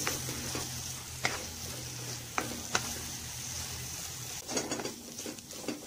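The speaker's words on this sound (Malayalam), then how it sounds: "ഇതേപോലെ നന്നായിട്ട് വഴറ്റിയെടുക്കണം" Onion and egg being sautéed in a pan, a soft steady sizzle under a few sharp spoon knocks against the metal, with a busier patch of stirring near the end.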